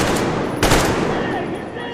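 A burst of player gunfire in Metro Exodus on a dark Moscow winter level, one sharp loud shot standing out at mid-clip over a dense, noisy background of continuous gunfire.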